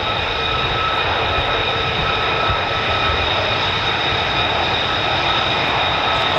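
Steady, loud roar of an F-15 or F-35 fighter jet engine at RAF Lakenheath, a continuous heavy rumble holding unbroken throughout with no talk.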